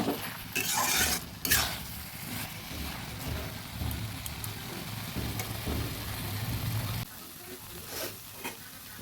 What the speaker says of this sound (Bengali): আর ভালোভাবে মিশিয়ে দিচ্ছি